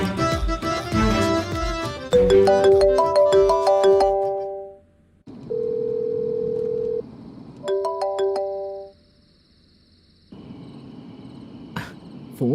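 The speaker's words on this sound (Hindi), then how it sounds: "फोन क्यों नहीं उठा रहा है?" A phone rings repeatedly and goes unanswered in a Hindi-dubbed action thriller film scene, its melodic ringtone sounding in bursts with short pauses in between, loud and close, with no talking.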